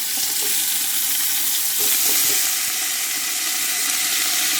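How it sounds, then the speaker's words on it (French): Whole fish and aromatic vegetables fry in about two decilitres of olive oil for a fish soup, giving a continuous, dense sizzle with a few soft stirring knocks, heard close and alone. "On va verser environ 2 décilitres d'huile d'olive et on va faire revenir tous nos poissons."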